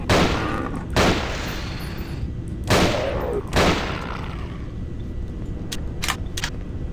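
Gunfire in Nightmare House 2, three loud separate shots about a second apart, each with a rolling echo tail, followed by a few quicker, lighter cracks near the end, with no talk over them.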